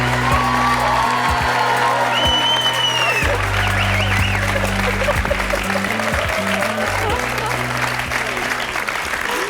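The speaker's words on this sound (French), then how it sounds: "Je vous demande de l'applaudir très fort." A television studio audience applauds loudly and continuously, dense clapping with a few whoops and cheers mixed in, mid-distance and sustained for the whole stretch.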